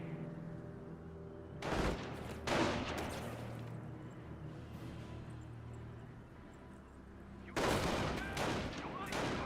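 Bursts of .50 cal machine gun fire in the World War II strategy game Company of Heroes, with several rattling volleys separated by quieter battlefield rumble, fairly distant and loud against the background.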